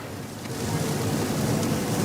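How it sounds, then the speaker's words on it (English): Heavy rain and wind from Hurricane Helene on a road in Griffin, Georgia give a dense, steady hiss with a low rumble that swells slightly louder partway through and continues without talk. "the rain has certainly picked up while we've been out here over the last hour. So has the wind, too."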